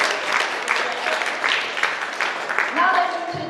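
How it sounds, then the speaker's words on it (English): Audience applause for a state representative at a community forum, moderate clapping with voices talking over it and a speaker briefly audible near the end. "Round of applause for our dear friend, Representative Anna Escamani."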